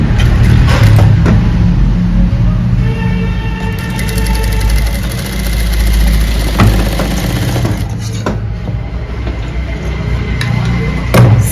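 A sewing machine runs in a steady mechanical whir while stitching the collar of a ladies' coat, humming continuously at close range with no pauses.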